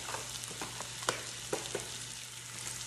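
Small chunks of beef sear with rosemary in a pan, giving a steady close sizzle with a few sharp pops and crackles and brief stirring scrapes, with no talking.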